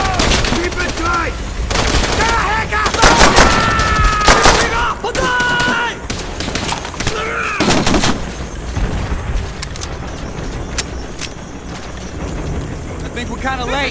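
Machine gun fire in the Call of Duty World at War campaign, rapid rattling bursts and scattered gunshots repeating throughout, loud and close, mixed with battle noise and shouted soldier voices.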